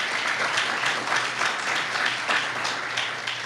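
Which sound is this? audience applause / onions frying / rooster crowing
audience applause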